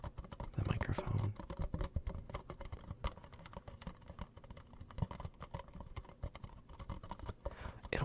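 Fingertips tapping on a collectible prop up close, a soft, quick patter of light taps that almost suggests rain on a window, with faint scratchy textures and no talking.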